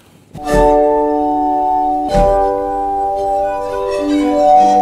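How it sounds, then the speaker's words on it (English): A glass armonica sounds two bright struck onsets, one near the start and one at about two seconds, each followed by sustained ringing glassy tones, loud and close, with no talk. "Number four, the glass harmonica."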